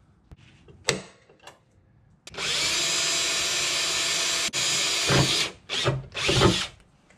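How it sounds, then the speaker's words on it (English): A power drill whirs steadily for a couple of seconds drilling a pilot hole for a hood strut bracket on a Jeep Wrangler, then revs in several shorter bursts, close by, after a few faint clicks and handling noises. "now that we have a pilot hole drilled"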